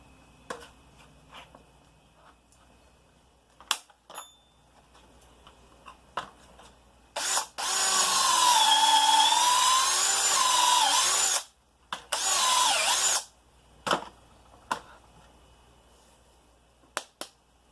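A power drill fitted with a drill guide bores into wood for a fire pit planter box with benches, running loud and steady in two long bursts with a brief stop between, amid scattered clicks and handling knocks.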